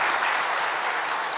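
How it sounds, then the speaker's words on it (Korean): A church congregation applauding during a Sunday worship service, a brief burst of even, dense clapping heard without talk. "한 무대 여러분 박수해 주시길 바랍니다."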